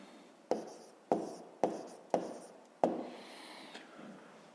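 Pen or pencil strokes writing down the answer to a fifth-grade math exercise, five sharp close taps of marks on paper at a steady pace followed by softer scratching, with no talking.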